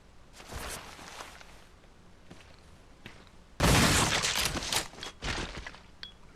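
Handgun gunshot in the video game Resident Evil Zero, a single loud sharp blast partway through after softer thuds and footsteps, followed by a decaying tail and a few impacts.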